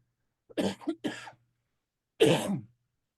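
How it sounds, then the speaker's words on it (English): Several hoarse coughs in quick succession, then a pause and one more rough cough, close and fairly loud against silence. "I'm going to cough here"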